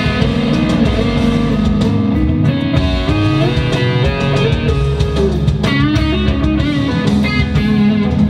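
Electric guitar solo played by a session guitarist during a level check, with a loud, continuous stream of bending, sustained lead notes over dense backing for about eight seconds.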